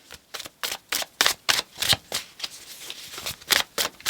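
Tarot cards are shuffled by hand in quick, crisp riffling bursts, about a dozen close papery flicks in a steady rhythm, with no talking.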